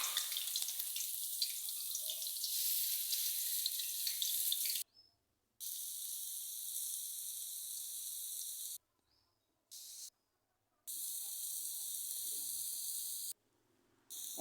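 Water lily flower fritters fry in a little oil in a wok, giving a steady bright hiss that cuts out several times in short gaps before resuming.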